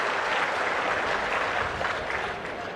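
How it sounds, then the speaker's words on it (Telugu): A crowd claps loudly and steadily for Chief Minister Chandrababu Naidu during a political speech, a dense, even wash of applause lasting the whole moment with no voices over it. "గట్టిగా చప్పట్లు కొట్టి అభినందించండి"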